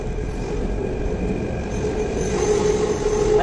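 A Jaipur metro train rolls along with a steady rumble of wheels on rails and a thin metallic squeal that grows more noticeable toward the end, heard from close by with no voices.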